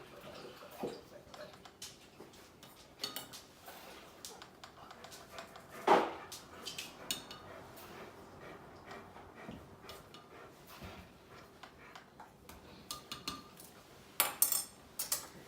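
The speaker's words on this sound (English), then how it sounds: "Now you can stir it up just to make sure that not all of them will get dissolved" A spoon stirring Kool-Aid powder into water in a cup, giving soft clinks and scraping taps against the side, faint and intermittent over low background noise.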